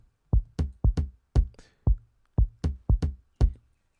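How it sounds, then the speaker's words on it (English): Programmed kick and tom drum pattern in FL Studio for a deep tech house beat, about ten punchy hits in a syncopated groove, dry and close, alternating low thumps with brighter toms, no voices. "but it's a kick and a tom"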